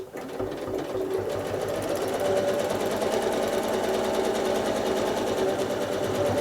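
A sewing machine stitches stippling on a disappearing nine-patch quilt, running as a steady, fast, rhythmic mechanical whir with a faint hum, close and continuous.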